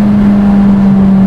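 A Honda S2000 roadster engine revs hard, its loud steady drone climbing toward 9000 rpm and holding one sustained note with no gear change.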